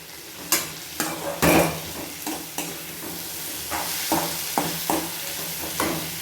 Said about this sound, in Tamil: நல்லா வதக்குன்னு வதக்கி விட்டுக்கலாம் மக்களே.